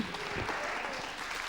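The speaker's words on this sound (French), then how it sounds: "on peut l'applaudir" Audience applause at a French music talk show, a steady, dense wash of clapping that holds evenly throughout the short moment.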